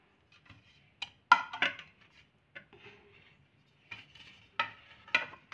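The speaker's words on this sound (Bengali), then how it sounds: "এবার আমি এই প্লেট দুটো কিন্তু ঢেকে রাখবো" Two plates are set down over bowls of sweet Bengali yogurt, giving a series of light, close ceramic clinks and knocks with quiet pauses between them in an otherwise still room.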